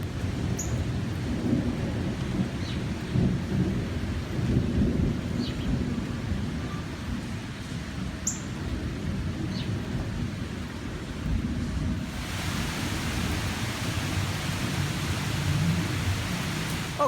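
Steady thunderstorm with heavy rain pouring throughout and low rumbling thunder rolling underneath, a continuous dense wash of rain sound with no talk.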